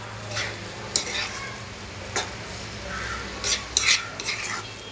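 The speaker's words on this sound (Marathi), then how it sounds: "व्यवस्थित परतून घ्यायचं जवळ आणि झाकण मारून ठेवायचं" Fresh small jawla shrimp stir-fried in a pan, Konkani style, with a soft steady sizzle under scattered scraping stirs of a spatula against the metal, fairly close and moderately loud.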